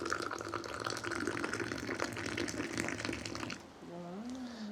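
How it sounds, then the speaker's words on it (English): Sweet Moroccan mint tea poured in a long steady stream from a height, a continuous splashing rush that cuts off near the end, followed by a short rising tonal sound. "let me show you how the master pours the tea"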